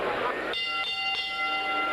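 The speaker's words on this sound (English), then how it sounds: "When the bell tolls" Boxing bell at the start of a junior middleweight bout, a single ringing strike with a long sustained tone that rings out, heard after a voice over arena noise.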